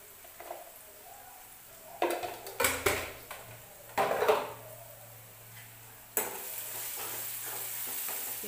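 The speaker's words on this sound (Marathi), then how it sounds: "व्यवस्थित मसाले भाजू द्यायचे, करपू द्यायचे नाही. हलवत राहायचं सारखं आपल्याला." Ground spices — turmeric, coriander powder, cumin powder and homemade red chilli powder — sizzle softly in a pan while a spoon scrapes and stirs in bursts, with a steadier hiss toward the end.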